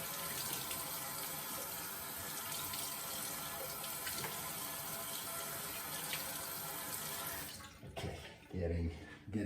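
A bathroom tap runs in a steady, fairly quiet hiss as hair is wetted for a straight-razor head shave, then cuts off near the end with a few splashes and handling noises.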